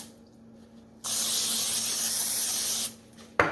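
Cooking spray hisses onto a baking tray in one sustained burst of about two seconds, then a brief second spurt follows after a short pause, all close and clear in a quiet kitchen.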